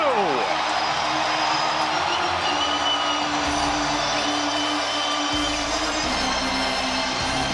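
Loud, dense crowd roar fills a baseball stadium during a Dodgers vs Padres NLDS playoff game, a continuous wall of cheering under a broadcaster's excited commentary.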